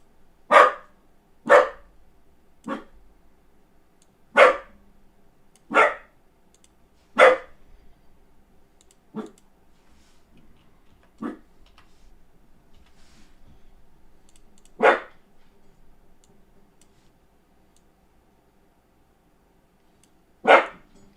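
A dog barks in single sharp woofs, about nine spread irregularly over the stretch, with quiet pauses between them and a longer gap before the last bark.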